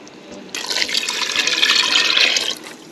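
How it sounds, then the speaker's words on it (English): Two cups of broth poured into a pan for homemade hamburger helper, a loud, steady splashing gush lasting about two seconds before it stops. "we're gonna add in two cups of broth"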